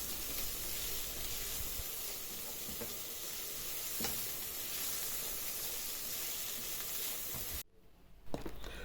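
Filling frying in a pan, a steady close sizzle and hiss with occasional stirring scrapes, cutting off abruptly near the end as the heat is turned off.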